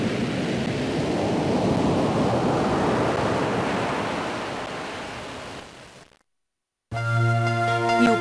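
Broad, steady roar of sea waves washing in, fading toward the end, cut by a short silence before a musical tone begins.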